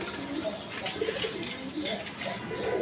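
A satin pigeon cooing among a group of pigeons, soft low repeated coos over steady background noise, with people talking in the background.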